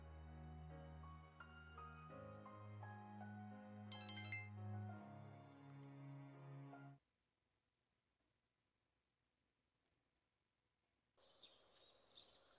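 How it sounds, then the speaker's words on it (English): A phone rings in the Persona 3 Portable video game, a melodic electronic ringtone that plays for several seconds and stops, then a brief chirpy tone follows after a silence. "Phone ringing."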